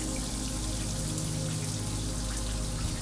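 Water runs steadily from a newly installed Glacier Bay single-handle tub and shower valve during a leak test, an even hiss with a low underlying hum, close by and without talking.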